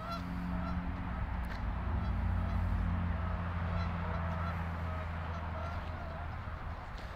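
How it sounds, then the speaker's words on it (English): Geese honk repeatedly outdoors as a flock takes off, recorded on a Rode VideoMic Go II, the calls mixing with a low rumbling wind and distant ambient noise. "got the geese taking off over there"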